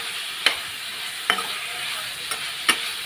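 Tomato and raw banana curry stirred in a pan, with four sharp scrapes of a spoon against metal at uneven intervals over a steady low sizzle.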